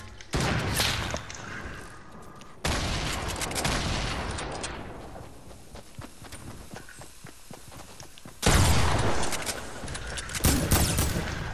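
Rapid gunfire from the video game Fortnite comes in loud, dense bursts that cut in and out, fading to a quieter stretch in the middle before swelling again near the end.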